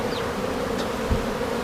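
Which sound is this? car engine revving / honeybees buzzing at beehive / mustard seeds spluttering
honeybees buzzing at beehive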